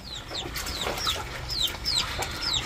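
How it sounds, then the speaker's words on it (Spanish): Farmyard hens cluck in short repeated calls against a steady background hiss, with sharp chirping notes scattered throughout and no talking. "está grandota esta gallina"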